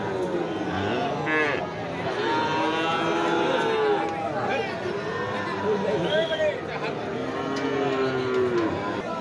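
Cattle moo repeatedly in long, close, drawn-out calls as big bulls are unloaded among a crowd of cows and calves, with people's voices and chatter running underneath throughout.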